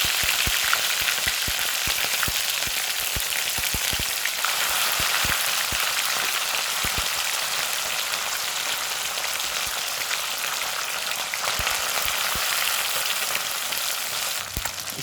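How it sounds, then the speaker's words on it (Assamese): Puthi fish frying in plenty of hot oil for an Assamese recipe, a dense continuous sizzle and crackle with sharp pops scattered throughout, close and steady, with no talk. "তেল হৈ গ'ল গৰম, এতিয়া আমি ইয়াত দিম মাছ কেইজন।"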